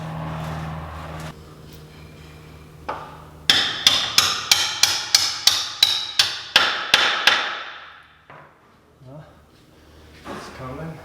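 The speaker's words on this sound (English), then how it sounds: "let me get a hammer, just do the few love taps so I can extract that stud" A hammer taps repeatedly to free a stud on an E53 BMW X5 4.8is, about ten close, sharp metallic strikes in a steady rhythm, with quieter handling noises before and after.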